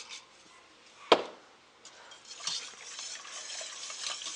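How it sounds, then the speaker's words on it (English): Spoon stirring a pot of gnocchi sauce on the stove, a soft continuous scraping and bubbling that builds gradually, with one sharp clack of a utensil early on. "I'm going to give it a nice stir"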